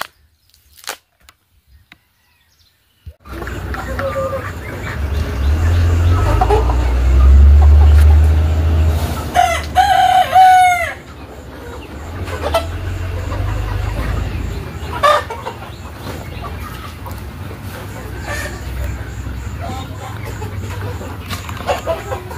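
Desi hens cluck at a farm, scattered near calls over a steady low rumble of a passing vehicle, with a brief rising bird call in the middle and quiet gaps at the start.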